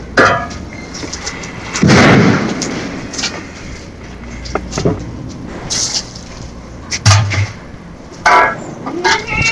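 Atom bomb firecrackers go off in Tamil Nadu, India: several loud, sharp bangs at irregular intervals, each echoing briefly over an outdoor background.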